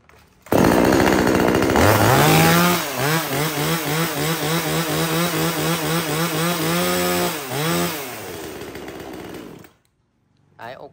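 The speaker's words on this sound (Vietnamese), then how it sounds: "anh em cần một chiếc máy cưa xích nhỏ nhẹ thì làm con này cho nó nhẹ nhàng anh em nhá" A small, lightweight chainsaw used for cutting and pruning branches runs loud and close for about nine seconds, its engine revving and wavering up and down before cutting off into silence.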